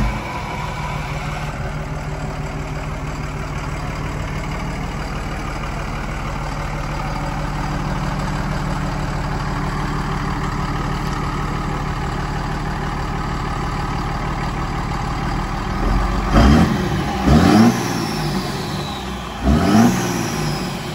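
A modified Lodestar truck engine runs with a steady low rumble, then revs sharply twice near the end, loud and close.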